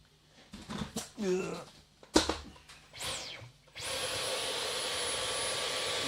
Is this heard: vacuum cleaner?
yes